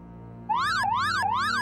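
An ear-splitting electronic alarm starts abruptly and sweeps up and down in a fast repeating warble, loud and piercing over a low steady hum, with no voices.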